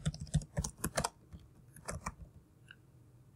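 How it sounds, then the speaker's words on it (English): Quick, irregular keystrokes on a computer keyboard, clicking in a close burst and then slowing to a few scattered taps with no talking. "I would type my answer to the first question,"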